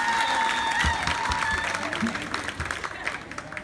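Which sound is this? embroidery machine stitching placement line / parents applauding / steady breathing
parents applauding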